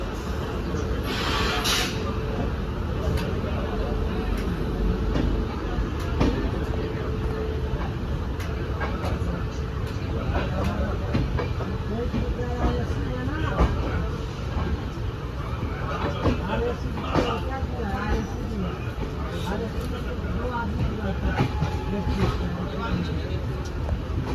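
Steady rumble and rattle of the Kerala Express at night, heard from inside a carriage, with people talking over it throughout.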